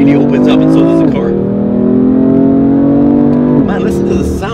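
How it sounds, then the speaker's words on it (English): BMW M4 Competition fitted with an M Performance exhaust pulls hard in second gear, its loud, aggressive engine note rising steadily, dipping at a brief shift, then climbing again, close and dominant throughout. "Listen to the sound. It sounds amazing, guys. It's so loud and so like aggressive as a second gear"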